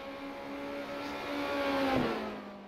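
Formula Renault 2.0 open-wheel race car in iRacing around Watkins Glen, its engine a steady loud drone with harmonic whine that swells toward a peak near the end, as if accelerating or passing.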